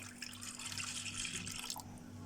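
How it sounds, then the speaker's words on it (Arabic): Milk poured into a cup for making whipped cream, a continuous splashing liquid stream lasting about two seconds, close and fairly loud, with no talk. "اول حاجه هحط معلقه لبن او كوبايه لبن كده حلوه اهي"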